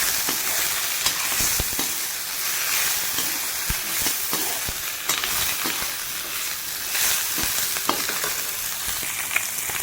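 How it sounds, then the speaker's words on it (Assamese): Pork sizzles and crackles in its own rendered fat in a pan for an Assamese pork and elephant apple curry, with steady close frying hiss and repeated sharp scrapes and knocks from stirring throughout. "মাংস যিটুকুৰা এতিয়া অলপ লৰাই দিম।"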